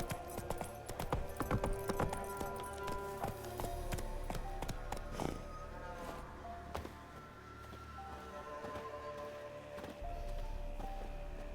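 Hooves of Roach, the horse in The Witcher 3: Wild Hunt, clip-clop in a steady trotting rhythm, close and clear, over soft ambient game music.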